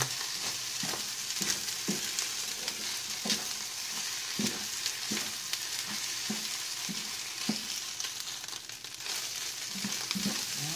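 Red fried rice with mixed vegetables, salt and pepper sizzling steadily in a pan while a utensil stirs it, scraping in irregular taps over a constant loud frying hiss, close up with no talking.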